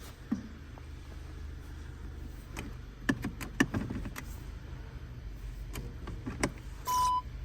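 On a 2016 VW Tiguan Comfortline fitted with retrofit electric folding side mirrors, a few sharp clicks in the cabin lead to a short, smooth motor whir near the end, with no talk.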